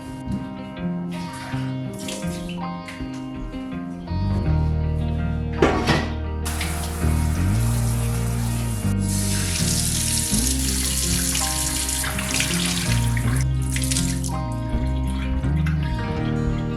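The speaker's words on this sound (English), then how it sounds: "I'm just going to rinse the yarn this way until the water starts to be a little bit more clear" Running tap water splashes steadily into a sink for a long stretch, with soft sloshing as naturally dyed wool yarn is rinsed, over background music.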